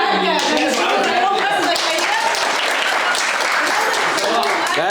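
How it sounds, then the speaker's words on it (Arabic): Clapping and applause at a home dining table, a dense, bright patter of hands lasting several seconds, mixed with people talking and cheering. "ومش محتاجين لا تسقيف ولا تشجيع"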